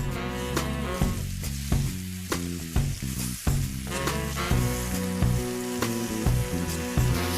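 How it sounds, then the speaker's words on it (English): Chicken pieces fry in medium-hot oil for butter chicken, giving a steady sizzle with bursts of crackle and stirring, all over a constant tonal background. "Now that the oil is medium hot, let's start frying these chicken pieces."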